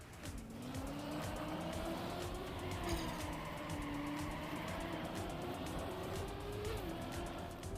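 Race car engine in the Trackmania video game drones steadily with a rising and falling pitch, tires hissing and brief skids over a continuous, loud game mix with no talk.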